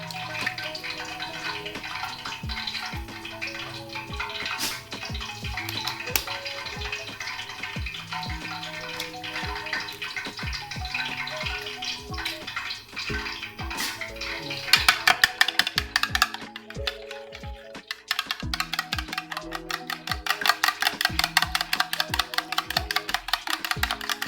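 Two eggs are whisked in a bowl, heard as rapid, rhythmic clinking taps that grow denser and louder toward the end. Background music plays throughout.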